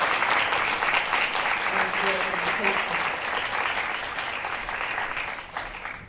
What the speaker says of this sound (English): Can we give another round of applause for that?